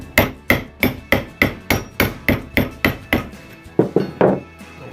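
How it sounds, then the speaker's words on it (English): A hammer bangs on a metal Corvette hood scoop to flatten its arch, giving about a dozen sharp, ringing strikes in a steady, even rhythm, close and loud, with nothing else heard. "I bang on it with a hammer."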